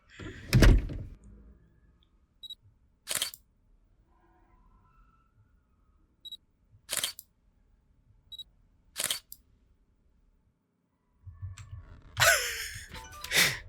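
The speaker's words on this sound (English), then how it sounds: "Oh, I accidentally hit F, which is the interact key, and that opened the door and it freaked me out." A door opening in a paranormal investigation video game, heard as a few sharp, separate clicks and knocks spread through a quiet scene, with a louder rustling burst near the end.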